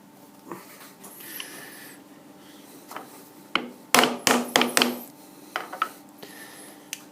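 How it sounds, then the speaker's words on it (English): A light hammer taps a parallel into a grinding fixture to seat it, a burst of several sharp metallic knocks among softer clinks and scrapes of workshop handling. "Let's give it a light tap down, make sure our parallel's tight"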